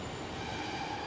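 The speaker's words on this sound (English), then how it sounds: "the first train to kick off the video is a Great Western Railway service from Barnstable going to Exeter Central." Great Western Railway two-car Class 150 diesel train at Exeter St Davids station, a faint, steady rail rumble with a soft squealing tone and no voices.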